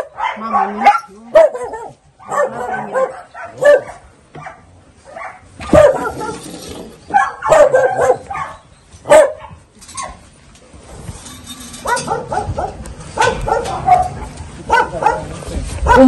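Puppies and a mother dog yelp, whimper and bark in repeated short bursts throughout, close by, with people talking over and between the cries.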